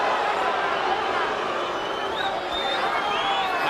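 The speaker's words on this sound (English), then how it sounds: "Pacquiao fans booing because they thought the punch was low" Boxing arena crowd of Pacquiao fans at the Pacquiao–Marquez fight, a steady dense roar of voices with booing and whistles, loud and continuous throughout.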